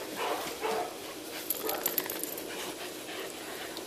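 Dogs at a pet daycare play session, including terriers and dachshunds, scuffle and yip in a busy room, with soft whimpers, jangling tags and light thuds blending into a continuous moderate clatter.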